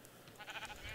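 A single short, wavering sheep bleat from modded Minecraft (SkyFactory 4) rises midway and fades, heard alone with no talking over it.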